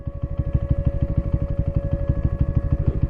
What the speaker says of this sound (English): Sorry about the siren in the background, but I got a siren test